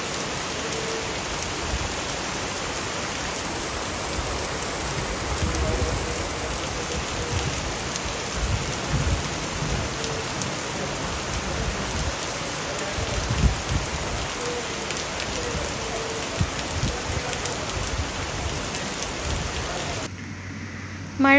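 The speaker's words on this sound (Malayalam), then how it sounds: "മഴ തോരുന്ന ലക്ഷണമൊന്നും കാണാത്തതുകൊണ്ട്" A heavy downpour pours steadily and densely around a temple for about twenty seconds, a continuous loud hiss of rain with no breaks, ending abruptly.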